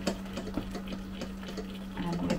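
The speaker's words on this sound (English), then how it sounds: "And I need to add 200ml of boiled water." Boiled water is poured into a jug to make liquor for pie and mash, a steady close splashing trickle with a few brief clinks throughout.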